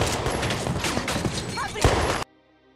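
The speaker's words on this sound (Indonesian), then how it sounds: "Hingga akhirnya terjadilah baku tembak" A rapid burst of gunfire crackles through a film shootout scene, several shots in quick succession over a couple of seconds, then cuts abruptly to near silence.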